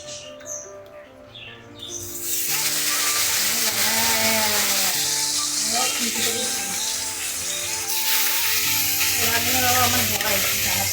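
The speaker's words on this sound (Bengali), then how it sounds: "ভালো করে হলুদ মাখিয়ে এবারে কড়াতে চাস করে আওয়াজ ধরে হবে।" Loud, continuous sizzling of turmeric-coated fish frying in a hot wok begins abruptly after a quiet start, crackling steadily with a voice speaking over it.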